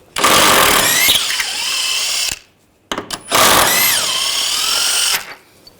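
A power tool with a 16mm socket spins out the two rear front lower control arm bolts on a 2009-2017 Volkswagen Tiguan, in two loud whirring bursts of about two seconds each, separated by a short pause.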